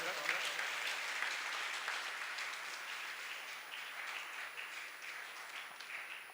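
Loud, sustained applause from an audience at a yoga day music and devotion programme on stage, steady dense clapping for about six seconds with faint voices underneath.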